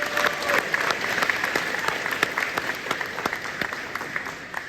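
A graduation crowd at a 2025 high school ceremony on an outdoor stage claps steadily, a dense patter of many hands that fills the space without a break.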